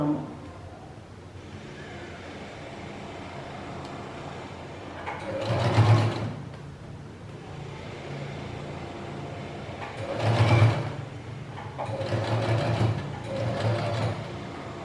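A sewing machine stitches slowly around curves in old denim jeans, sounding as three short bursts of close, whirring stitching separated by quiet pauses.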